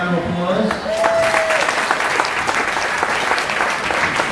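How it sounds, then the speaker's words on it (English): Dense, steady applause fills a large gathering at a community distribution event, honoring a state senator's staff, with a brief whistle early on and sustained clapping throughout. "Please give a round of applause."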